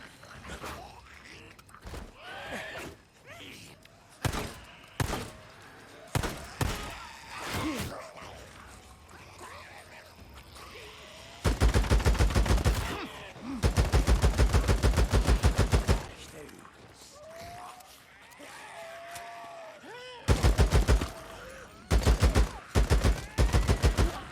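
Gunfire in the video game Days Gone: scattered single shots give way to long, loud sustained automatic bursts, then a final volley of rapid fire near the end.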